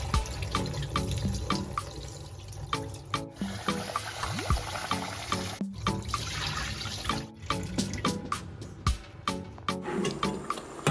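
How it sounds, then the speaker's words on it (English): Rice being rinsed under a running kitchen tap in a sink for jollof rice, a steady splashing stream with repeated sloshing and grainy stirring, close and continuous without speech. "So just make sure that you rinse your rice very well. That is what I'm doing."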